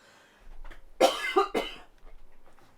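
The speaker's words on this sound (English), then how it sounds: "I'm sorry, I need to cough." Several harsh coughs in quick succession, close to the listener, with a little breathing before and after.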